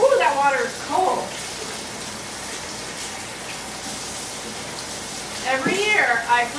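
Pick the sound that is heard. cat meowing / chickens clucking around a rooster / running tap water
running tap water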